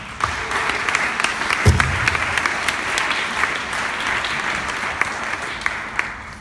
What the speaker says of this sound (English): Please give a warm round of applause for Sujan Patel.